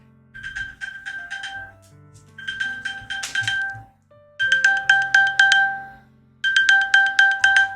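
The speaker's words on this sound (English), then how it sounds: "Oh, it's the find my iPad alert" A Find My iPad alert plays from an iPad: loud, repeated bursts of bright, high pinging tones in a rising-falling pattern. It comes in four separate volleys with short pauses between them and no voice over it.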